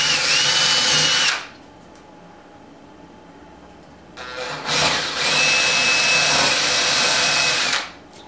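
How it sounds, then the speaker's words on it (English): Power drill boring pilot holes into plywood with a brad point bit, two loud steady whining bursts separated by a quiet pause, close by with no talking. "I'll just drill these pilot holes in."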